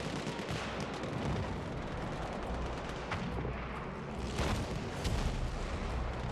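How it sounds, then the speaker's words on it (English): Continuous rumbling booms and gunfire crackle through a dense, chaotic 16 versus 16 video game battle din on Xbox One, with heavier blasts surging toward the end. "And explosions everywhere."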